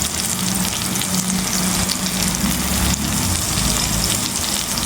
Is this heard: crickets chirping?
no